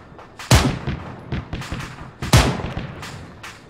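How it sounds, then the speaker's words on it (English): Two heavy, loud sniper rifle shots from a Halo mod, Operation Trebuchet, fired at a vehicle tire, each a sharp close crack with a booming tail, followed by smaller impacts and clatter, no speech. "these sniper rifles here, the original one from the game, can pretty easily disable most vehicle wheels in a single shot"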